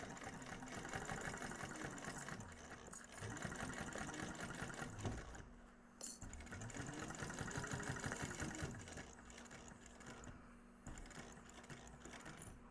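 Sewing machine stitching curved seams of a Tumbleweed quilt block by Blue Calla, a steady rapid mechanical whir that speeds up and slows in several runs, with brief pauses between them, close and continuous.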